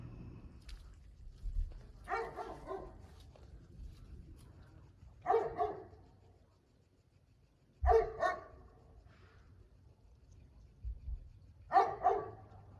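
A dog barks in short bursts of several barks, separated by pauses of a few seconds, moderately loud over a low background hum.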